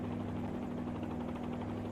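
Steady, continuous rotor and turbine drone of a helicopter hovering in a flight simulator game during a loss of tail rotor effectiveness scenario, even and unbroken throughout with no talk.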